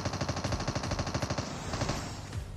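A machine gun in Call of Duty Mobile hammers out a fast, steady stream of close shots, pauses briefly, then fires a few more rounds over the game's background noise.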